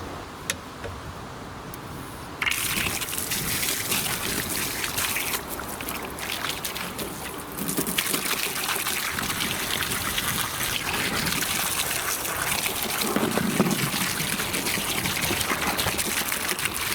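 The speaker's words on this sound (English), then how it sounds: "just tip that out, put fresh water in" Water is tipped out of a container and fresh water is poured in. A steady gush and splash runs loud and close, and it grows fuller partway through.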